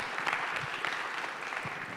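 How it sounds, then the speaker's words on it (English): An audience at a panel discussion on American media breaks into applause, a dense, steady patter of clapping hands throughout, with no voices over it. "Yeah, I think that her response certainly deserves applause."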